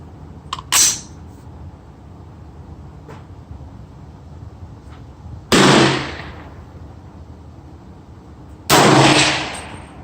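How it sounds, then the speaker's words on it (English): Three sharp, loud gunshots from an LFA 300 Blackout rifle firing Fiocchi SST ammunition at a 25-yard target outdoors, spaced several seconds apart, each a sudden crack with a brief decaying tail over quiet background. "I'm shooting at the left upper target at 25 yards. This is the Fiocchi with SST bullet."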